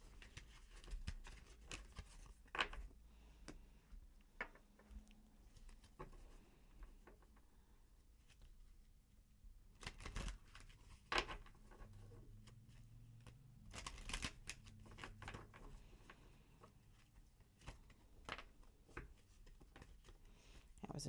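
Oracle cards being shuffled by hand for a reading, with soft papery riffles and taps coming in irregular bursts, some louder slaps standing out, close and fairly quiet with a low room hum underneath.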